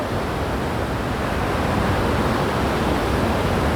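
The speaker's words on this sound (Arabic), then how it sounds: "شلالات الراين وين؟ سويسرا." Rhine Falls waterfall in Switzerland roaring as a steady, dense wash of broadband noise, loud and continuous throughout with no talk.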